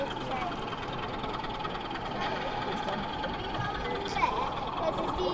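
A model train rumbles steadily along an exhibition layout at the London Festival of Railway Modelling, Alexandra Palace, with a continuous mechanical whir and clatter, close by, with no pauses.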